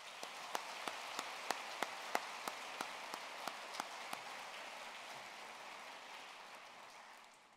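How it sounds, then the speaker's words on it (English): Audience applause in a large hall at a Kansas FFA convention opening session: a rain-like wash of many hands under a run of sharp, evenly spaced rhythmic claps that stop halfway, then the applause fades out, heard from a distance. "please join me in a final round of applause as these remarkable individuals exit the stage"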